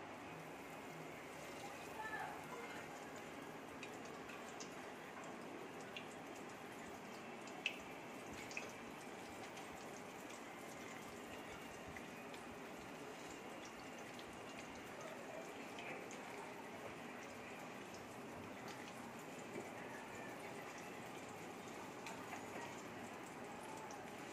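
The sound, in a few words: jackfruit frying in hot oil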